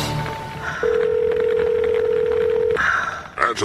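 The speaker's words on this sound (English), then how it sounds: "Answer the damn phone." A telephone on a Brooklyn oldies radio show dials out with a sustained tone followed by ringback, loud and close, with a brief voice fragment and crackle at the end.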